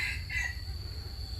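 A rooster crows once, close and clear, against a low steady rumble in the background.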